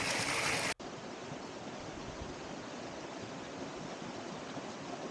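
Steady rushing of a mountain river in Itogon, Philippines, a broad continuous watery hiss at moderate level that never lets up, with no voices.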